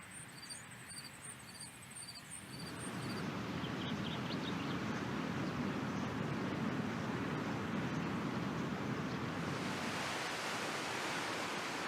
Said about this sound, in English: You can now hear the sounds of the sea